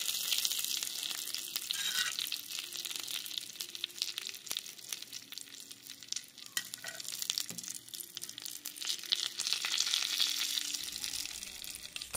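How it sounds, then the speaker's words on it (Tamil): Mustard seeds and curry leaves fry in hot oil, a steady bright sizzle with scattered sharp pops and crackles running throughout, close and fairly loud with no talking. "கடுகு ஆட் பண்ணிக்கலாம் கொஞ்சம் கருவேப்பிலை ஆட் பண்ணிக்கலாம்"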